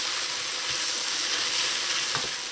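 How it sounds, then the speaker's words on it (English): Dumplings fry and get stirred with sautéed onions in a pot for Trinidad and Tobago curry crab, giving a loud, continuous close-up sizzle and hiss with no voices. "To your sauteed onions, add in your dumplings."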